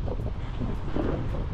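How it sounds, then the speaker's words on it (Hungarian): Cold December wind buffets the microphone outdoors in Csepel, Budapest, a loud, continuous rumbling gust noise with uneven surges and no speech. "Mondjuk a szél is fúj."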